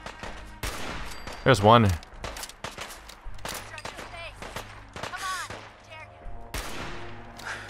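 Fallout 4 gunfire at Dunwich Borers: repeated sharp shots crack through a raider fight, one heavier blast partway in, with game effects and a voice speaking briefly over the shooting.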